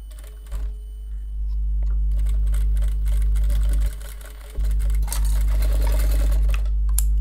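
A sewing machine stitches a simple cloth shopping bag. Its motor whirs in short running bursts with a rapid mechanical needle clatter, pausing briefly between them. The sound is close and clear, with no talk.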